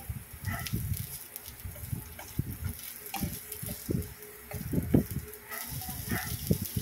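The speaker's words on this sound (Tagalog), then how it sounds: "umpisahan ng igisa ang bawang." Garlic sautéing in olive oil for simple Filipino sautéed vegetables, a steady soft sizzle with intermittent stirring scrapes and crackles close by.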